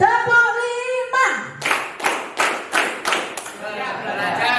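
Indonesian ninth-grade class in a classroom clapping together five times in a steady rhythm, each sharp clap distinct and fairly loud, following a brief spoken cue.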